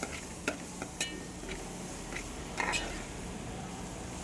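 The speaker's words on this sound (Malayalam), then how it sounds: "അപ്പോൾ നന്നായി വഴറ്റിയെടുക്കുക." Sliced onions sauté with ginger garlic paste in a pan for a homestyle Kerala chicken curry, giving a low steady sizzle broken by a few light clinks and scrapes of a stirring spoon, with no talking.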